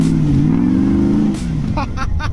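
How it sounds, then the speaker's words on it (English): A lifted truck's engine drones and strains as it drives into a snowy ditch, a loud close rumble that drops off abruptly, followed by short rasping bursts, while someone talks over it. "drive the truck straight into the ditch and get hung up super bad"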